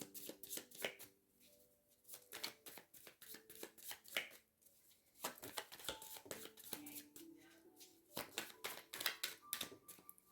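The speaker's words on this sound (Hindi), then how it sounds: "हमेशा शफल करके कहाँ कहाँ जाते हैं कार्ड्स" Tarot cards being shuffled, with rapid papery riffles and flicks in repeated bursts across the whole stretch, close and soft with no talking.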